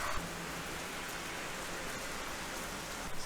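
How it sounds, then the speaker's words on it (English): Steady rain falls all around, a dense, even hiss of drops striking surfaces, close and continuous with no voices or other sounds. "Holy moly! Look at the rain."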